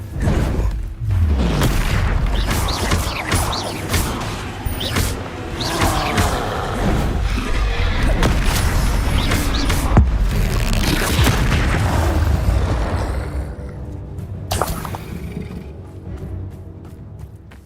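Heavy magical Bombarda blasting-spell explosions in Hogwarts Legacy boom loudly one after another, with deep thuds and rumbling debris, then the blasts fade toward a quieter tail.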